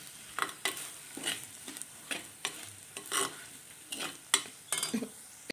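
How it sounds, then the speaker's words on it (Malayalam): Spices and coriander powder being stirred in a hot pan for a Kerala fish curry with ambazhanga: a soft sizzle underneath repeated scraping strokes of a spoon against the pan, close and fairly quiet, with no talking. "ഇതിൽ ഒരു സ്പൂൺ നിറച്ച് മല്ലിപ്പൊടി ഇട്ട് കൊടുക്കുക എല്ലാം ഒന്ന് ഇളക്കി കൂട്ടി"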